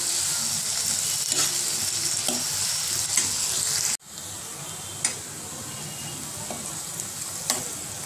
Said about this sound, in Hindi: प्याज हम हमारी हल्की से फ्राई कर लेंगे, थोड़ी सॉफ्ट हो जाएगी